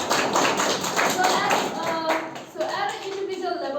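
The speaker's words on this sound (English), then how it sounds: "Let's give a round of applause for this" Classroom applause during a lesson: a burst of close, fairly loud clapping from students that tapers off, with a voice and some chatter rising near the end.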